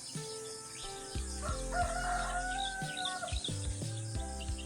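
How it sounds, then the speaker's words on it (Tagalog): Roosters crow in a rural Philippine setting at daybreak, long drawn calls overlapping and repeating from near and farther birds over a steady background, with no talk. "Daming manok."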